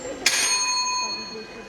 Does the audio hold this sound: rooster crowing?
no